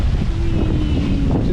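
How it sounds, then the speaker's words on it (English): Strong wind of about 23 knots roars steadily across the microphone on a sailboat running downwind under mainsail alone, with water and hull noise mixed into a continuous loud rush. "23 knots of wind."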